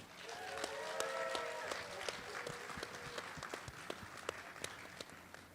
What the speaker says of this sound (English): And you may now clap.